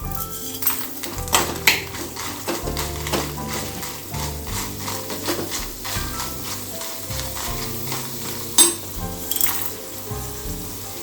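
Bengal gram and chilies sauté in a pan in an Andhra-style home kitchen, with steady sizzling and repeated scraping stirs from a spoon against the pan, clear and close, over a low background hum.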